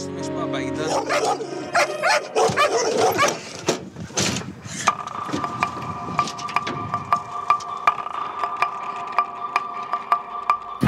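Detection dogs at a canine detection training centre bark and yip repeatedly, with sharp clustered barks early and then a rhythmic string of barks, fairly close, alongside other background noise.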